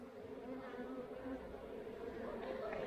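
A steady, dense buzz of many honeybees at an apiary hive with capped brood, continuous and close throughout with no voices.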